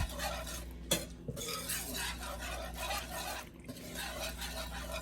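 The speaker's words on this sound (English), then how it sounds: "Please keep whisking, because your roux will burn." Steady metallic scraping and stirring of a whisk working a roux in a pan over medium heat, continuous and close, with a few sharper clinks of metal against the pan.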